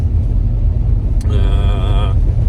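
A car drives along a road toward the Ladan community on a milk delivery run, a steady low engine and road rumble filling the cabin throughout, with a brief higher tonal sound partway through.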